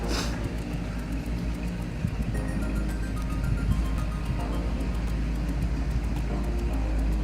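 Steady engine drone and road rumble from a Dodge Class C RV being driven, a constant loud hum from inside the vehicle with no talk over it.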